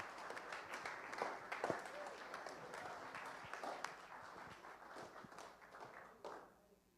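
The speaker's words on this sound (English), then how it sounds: "Let's give them a round of applause, please." Live audience at a premiere event clapping in a round of applause, moderate and fairly steady with some louder individual claps, with voices mixed in.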